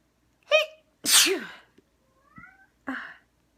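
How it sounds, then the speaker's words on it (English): A sharp sneeze bursts out near the listener, followed by a cat's soft meows and another short sneeze-like burst. "I'm going to finish this and then sneeze some more."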